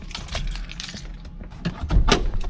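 Car keys for a 1996 Chevrolet Impala jangling in a hand, a few bright metallic rattles with a louder burst of clinking near the end, close and alone.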